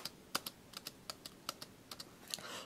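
Keys on a Logitech K810 wireless illuminated keyboard are typed at an irregular, quick pace, each press a soft, muted tap heard close and alone, without a sharp click.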